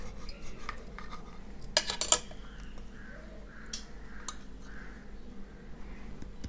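Knife cutting through a mushroom frankie roll on a plate, with a few light clinks and scrapes of metal on crockery, a sharper cluster of taps in the middle, then quiet soft rustling.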